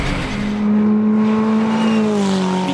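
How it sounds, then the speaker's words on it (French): Ferrari 488 race car lapping the Dijon-Prenois circuit, its engine holding a loud, steady high-revving drone close by with a slight pitch dip toward the end, no voices. "Miguel Moyola tente tout ce qu'il peut pour revenir sur le leader, mais la Ferrari 488 sera irrésistible ici à Dijon"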